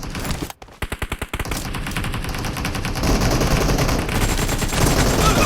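Gunfire in the mobile battle royale game BGMI: a quick burst of sharp automatic shots, then dense, continuous in-game noise and effects at steady loudness.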